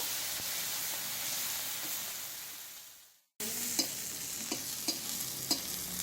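Prawns fry in a pan with a loud, dense, steady sizzle. It cuts off abruptly midway, then resumes with a few sharp clicks and taps, likely from stirring.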